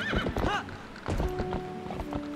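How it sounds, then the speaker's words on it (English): A horse in Zelda: Twilight Princess gallops with quick, close clip-clop hoofbeats and lets out a loud whinny, with game music tones underneath. "Maybe if you just made the horse a little less awkward."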